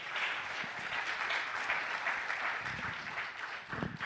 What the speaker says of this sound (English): A big round of applause for the panel.